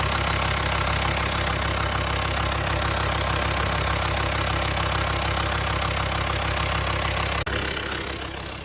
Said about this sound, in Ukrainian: Двигун працює нормально